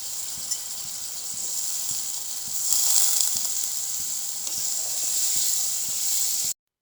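Potatoes sauté with spices for a catla fish curry, giving a constant hissing sizzle up close with faint, regular ticks beneath it, before the sound cuts off abruptly, with no one talking.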